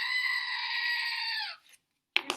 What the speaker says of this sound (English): Now that you have an excuse to use your screaming goat